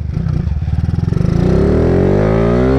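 A 2008 Honda CG 150 Titan motorcycle pulls away and accelerates, its single-cylinder engine putting out steady close-up pulses at first, then climbing into a smooth, rising drone that holds loud to the end.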